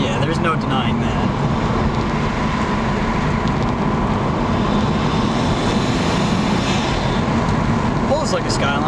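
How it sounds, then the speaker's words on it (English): Stock 2-liter inline-6 in a Nissan Skyline droning steadily from inside the moving car, a continuous engine and road rumble with people talking over it throughout. "sounds like a Skyline"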